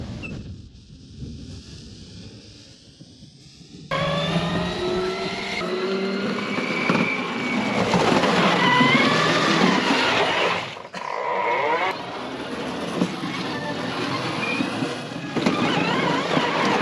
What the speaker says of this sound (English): Now I'll drive over there and do a spin right here in this spot,